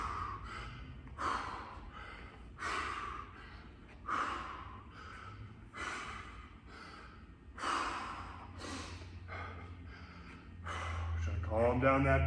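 Heavy, rhythmic breathing from someone recovering after a workout exercise: sharp gasping inhales and exhales repeat roughly every one and a half seconds, close and fairly loud, with no talk.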